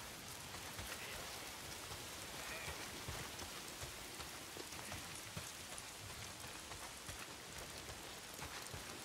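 Steady rain pours in the Days Gone video game on PC, a dense, constant patter of drops striking surfaces, even and unbroken throughout with no speech.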